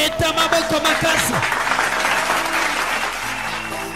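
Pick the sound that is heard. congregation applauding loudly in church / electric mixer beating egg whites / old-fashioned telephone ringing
congregation applauding loudly in church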